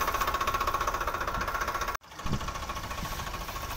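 A Massey Ferguson 9500 tractor engine chugs with a steady, close, knocking beat, cuts out briefly, then resumes the same rhythmic throb.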